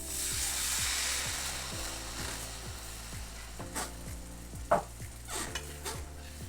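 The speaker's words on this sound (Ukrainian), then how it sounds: "Це все перемішуємо і заливаємо томат, томатним соком." Stirring in a pan with sizzling frying underneath, steady and close, with a louder clink of utensil against the pan near the end, while tomato juice is poured in for a milk hake sauce; no talk.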